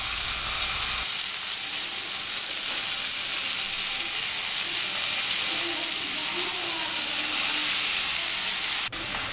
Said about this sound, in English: Now the onions have turned golden in color and I'm going to add thinly sliced Ganth Gobhi or Kohlrabi to it